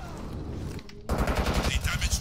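Rapid automatic gunfire from the video game Brink rattles in dense bursts, briefly quieter before erupting louder and sustained for the second half, with a voice talking faintly underneath.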